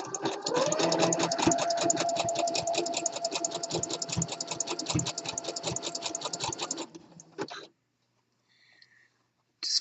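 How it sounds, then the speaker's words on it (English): A sewing machine runs steadily, stitching elastic onto a fabric waistband with an overcast edge, its rapid mechanical hum close and loud for about seven seconds before stopping, followed by a few faint handling clicks. "you sew around, catching the raw edge of the fabric and the top edge of the elastic and overcasting it"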